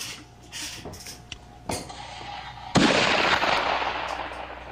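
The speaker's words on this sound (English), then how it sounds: "You shoot him." Rifle shots fired at an African buffalo during a hunt ring out outdoors as a few sharp reports, the last one loud with a long rolling echo, amid faint rustling and background noise.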